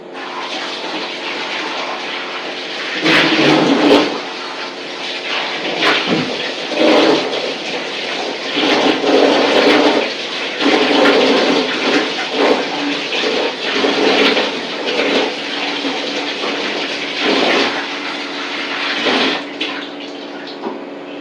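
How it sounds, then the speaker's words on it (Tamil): Raw plantains are rinsed under a running kitchen tap, a steady gushing stream broken by splashes and surges as the water hits the fruit, continuing alone without talk. "வாட்டரில் ரன்னிங் வாட்டரில் இதை நல்லா அலம்பிட்டு"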